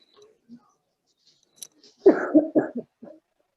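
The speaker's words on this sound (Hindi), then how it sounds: "और कुछ लोग तो बेचारे बुढ़ापे का शिकार हो गए, खांस रहे।" Several older people coughing and clearing their throats in a short burst of rough, bursty coughs, fairly close, following a few faint clicks and near-silence.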